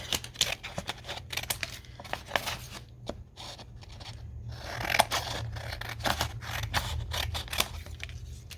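Scissors snip around the edges of a gel plate print made with acrylic paint and mica sprays, producing a close, steady series of crisp cuts and papery scrapes.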